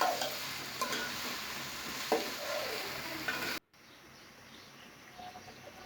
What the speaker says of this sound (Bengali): সবজি ভাজা শেষ,